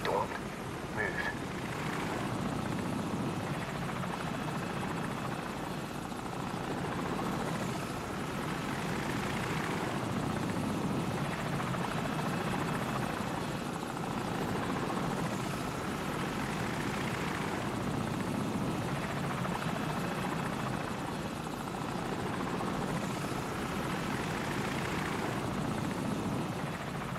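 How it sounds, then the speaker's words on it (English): An enemy helicopter circles during a Call of Duty 4 stealth mission, a steady rotor drone that swells and fades slightly as it passes. No one speaks. "You hear that? Enemy helicopter, get down."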